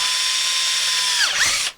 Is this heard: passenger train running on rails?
no